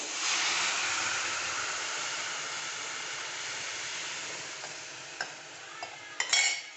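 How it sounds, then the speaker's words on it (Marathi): Heated milk poured into a pan of dry-fruit kheer and stirred, giving a steady broad hiss and sizzle that fades a little, with a few light spoon knocks near the end and no talking. "मी जे दूध गरम करून घेतलेलं आहे ते मी ह्याच्यामध्ये ॲड करते"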